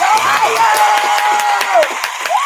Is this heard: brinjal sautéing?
no